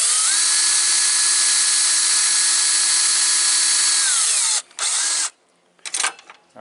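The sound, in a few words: power drill drilling a hole through a cap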